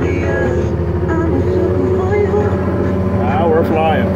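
An AGCO Allis 9435 tractor engine drones steadily and loudly while baling, a dense, continuous low rumble with no pauses.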